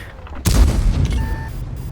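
A tank cannon fires once in a World of Tanks style video game, a loud sudden boom that rolls into a long rumbling decay over about a second and a half.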